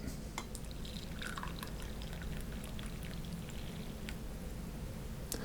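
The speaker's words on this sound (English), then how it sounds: "then let's pour our cup." Coffee pours steadily from a Hario V60 pour-over station into a cup, a continuous trickling with small splashes and drips, close by and without voices.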